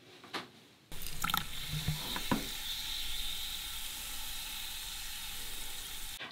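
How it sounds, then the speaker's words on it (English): Calcium carbide dropped into water inside a pumpkin fizzes and sizzles as acetylene gas forms: a few splashy drops and clicks at first, then a steady close hiss of bubbling that runs on alone without talk. "As soon as that solid calcium carbide hits the surface of that water, we start to see bubbling and hear lots of fizzing sounds"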